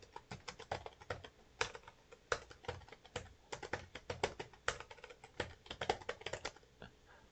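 Fingers type steadily on a computer keyboard, with rapid, close clicking keystrokes in uneven bursts and short pauses, alone with no talking.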